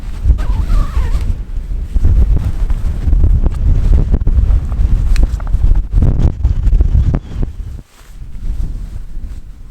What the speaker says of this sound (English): the wind's a little much